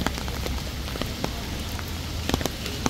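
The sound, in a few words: rain falling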